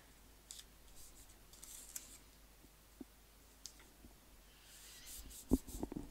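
Scissors snip paper while trimming a piece for a scrapbook page, a few soft, quiet cuts that sharpen into a quick cluster of louder snips near the end.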